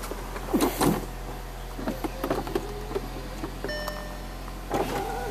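A convertible car's power windows and soft top rising, a mechanical whir with clunks and rattles near the start, then a steady motor drone ending in a final thump, close and alone.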